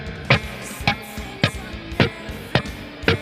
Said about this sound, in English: So let's move on to the lead guitar.